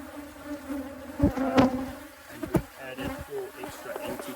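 Honey bees from a hive being split after canola bloom in South Africa swarm with a dense, continuous buzz, near and steady, with louder passes as individual bees fly close and a few soft knocks of frames being handled.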